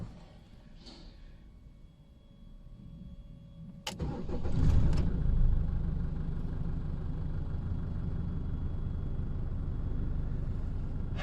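A Chevrolet Colorado that had been cranking without starting turns over briefly and fires right up, then settles into a steady, close engine idle.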